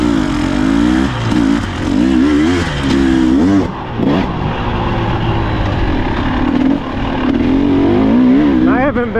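Engine of a 2024 Husqvarna TE 300 Pro dirt bike with a reflashed TBI ECU, ridden on tight single-track trail, a loud close two-stroke drone rising and falling steadily with throttle changes, with a rider talking over it.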